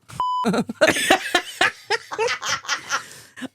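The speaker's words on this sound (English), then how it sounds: "I think the beep is only going to be when Julia's here." A short, pure censor beep sounds once near the start, followed by people laughing and chattering.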